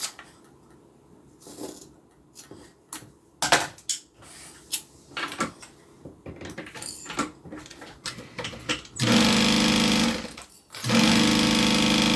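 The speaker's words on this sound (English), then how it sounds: "now I'm going to sew the bottom to the other side as well" A sewing machine stitches a zippered bag in two loud, steady bursts near the end, after a stretch of quiet handling knocks and fabric shuffling close by.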